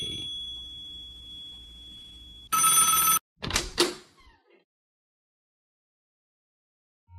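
A telephone rings in a Stanley Parable-style game, one loud bright burst of ringing standing out over a quiet electronic hum, followed by a couple of shorter clattering knocks that fade into silence.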